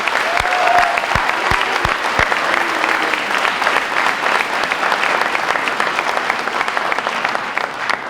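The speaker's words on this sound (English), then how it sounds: "How about a huge round of applause for Mr. Steve Laghi?" Steady, dense applause from a large crowd at a high school senior banquet fills the whole clip, loud and sustained without letting up.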